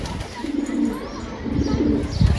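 Young pigeons taking off on a Turkish pigeon loft, with soft cooing and bird calls throughout and faint wing movement, close by and steady rather than loud.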